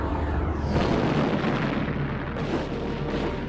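Ottoman cannon fire against the brick and stone walls of Constantinople in 1453, heard as a continuous heavy rumble of booming blasts with low roaring weight throughout, dense and fairly distant.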